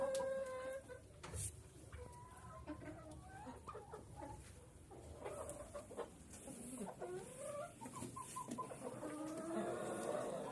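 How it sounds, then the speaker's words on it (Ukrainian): Hens cluck and murmur inside a coop on a rainy day, overlapping soft calls rising and falling, quiet and close with occasional sharper squawks. "Кури всі в курникові."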